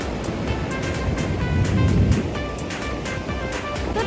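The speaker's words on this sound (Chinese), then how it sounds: "这边就是99里海边，在千叶那边算蛮出名的一个地方。" Ocean surf rolls onto Kujukuri beach in Chiba, Japan, a steady broadband wash of breaking waves that swells slightly midway, close and fairly loud, with no voices.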